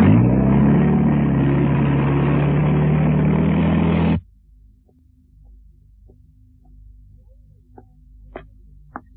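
A truck engine runs loud and steady in a children's cartoon, a thick droning hum that cuts off abruptly partway through, leaving near silence with a few faint ticks.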